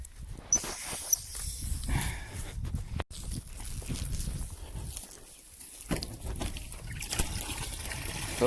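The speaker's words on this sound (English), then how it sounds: "turn on the water." Water runs and trickles into chicken waterers during farm chores, an uneven splashing stream with a couple of sharp clanks and faint footsteps nearby.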